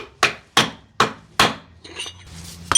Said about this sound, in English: Get your bad race and start to tap it in.